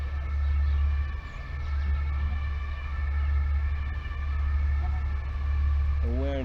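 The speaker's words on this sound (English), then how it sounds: "So you heard the alarm, right? So an ambulance drove by." An ambulance siren passes by in the background, a steady wailing tone held under continuous low rumble with a person talking briefly near the end.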